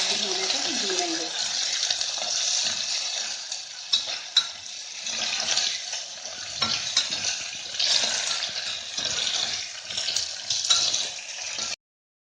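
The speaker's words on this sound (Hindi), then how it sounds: "अब इसमें डाल देंगे कड़ी पत्ते और प्याज, और प्याज को हल्का गुलाबी होने तक भूनेंगे" Curry leaves and onions fry in a pan with a steady sizzling hiss, with a few stirring knocks and light clatter and a voice talking at the start.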